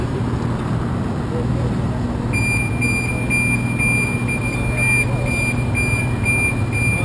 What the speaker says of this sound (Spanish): Sonó la alarma